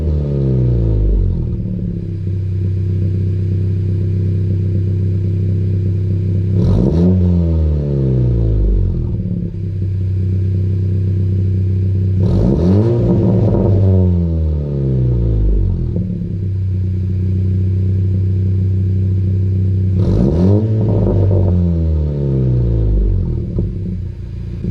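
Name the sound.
2020 Honda Civic Si engine revving with PRL downpipe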